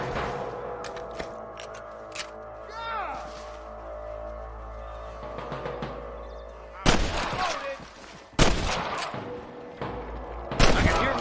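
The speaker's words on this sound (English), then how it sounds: "Gunshots." A burst of loud gunfire cracks out in a rapid cluster in the video game Red Dead Redemption, followed by a few more sharp shots, over a steady low hum and faint background noise.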